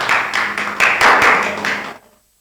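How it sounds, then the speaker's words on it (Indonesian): A classroom group claps together in brisk rhythmic applause for about two seconds, fairly close and loud, then stops abruptly into silence. "Tepuk tangan untuk semuanya"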